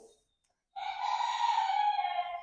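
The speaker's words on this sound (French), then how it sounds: "On n'a pas fini de les entendre, les coqs." After a brief silence, a rooster lets out one long, loud crow that holds steady to the end.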